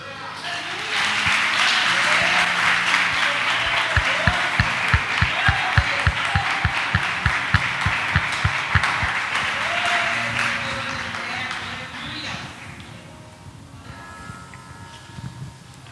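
A church congregation applauds loudly and continuously, with a rhythmic low thumping underneath that fades out toward the end as the clapping dies down.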